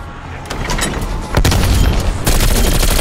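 A grenade detonates in Call of Duty Black Ops Cold War zombies mode amid rapid gunfire, with loud booms and dense crackling shots, close and continuous, stepping up in intensity.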